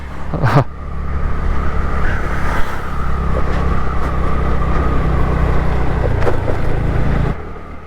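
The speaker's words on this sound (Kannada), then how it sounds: "ಓಹೋ ಏನಿದು ಒಂದೇ ಸಮ್ನ ಐದು ಕಾರು" Several cars driving past on the Shiradi ghat road, engines rising and holding in a loud, steady roar close by for several seconds before dropping away, with a brief thump at the start.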